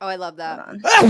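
A single loud sneeze bursts out near the end, right after a woman's speech, close to the microphone.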